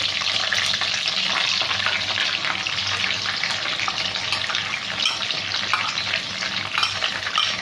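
Ground onion paste sizzles in oil in a pan, a loud, steady crackle with stirring scrapes and no voices.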